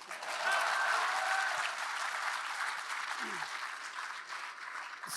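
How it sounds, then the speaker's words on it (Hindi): Sustained audience applause at a literature festival, a dense, steady clatter of many hands that fills the whole stretch and fades slightly toward the end. "ताली तो बजा दो बे।"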